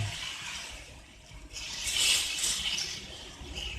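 Pearl millet dosa batter ladled onto a hot iron griddle gives a soft wet splatter and hiss that rises in the middle of the pour and then settles into a steady sizzle.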